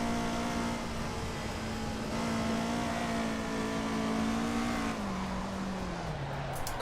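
Race car engine in Assetto Corsa Evo droning at a steady high pitch, then the tone drops as the car slows near the end, moderately loud with a buzzy, whiny character.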